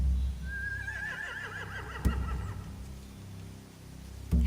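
Horses whinny loudly in a hay-filled riverside camp in The Walking Dead: The Final Season game, a long descending neigh with wavering pitch, followed by sharp clatters and a second thump near the end.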